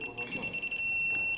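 Rapid electronic beeping from a digital torque wrench in a steady pulsing pattern that turns into a continuous solid tone as target torque is reached, close by, with voices talking underneath.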